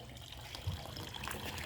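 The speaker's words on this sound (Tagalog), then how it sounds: "At meron tayo ditong tuloy-tuloy na daloy ng tubig." Water flows steadily into a concrete crayfish pond, a faint, continuous trickling and splashing wash that stays low and even throughout.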